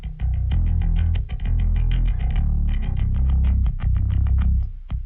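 Distorted rock bass guitar tone with boosted top end plays a driving run of punchy notes, loud and gritty with a bright edge, continuous under a full mix.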